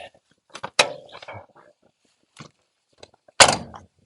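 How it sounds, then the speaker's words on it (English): A car's passenger door handled during a new-vehicle inspection: a few sharp thunks and latch clicks, one loud closing thud near the end, close and clear, with a voice speaking briefly between them. "So here is the passenger door."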